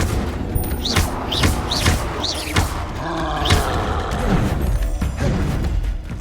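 Confringo and Expelliarmus spell blasts in the video game Hogwarts Legacy: a rapid series of sharp whooshing casts and crackling impacts, loud and dense over rumbling battle noise, without voices.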